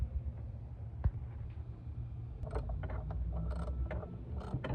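Close mechanical clicks and ratcheting come from a tool loosening a 10mm bolt on the fuel rail of a 4.7L Ram engine. A low hum runs underneath, with a brief sharp knock early on.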